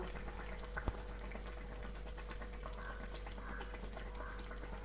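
Food frying in hot oil gives a faint, even bubbling sizzle throughout, with a single soft knock near the start and no talk.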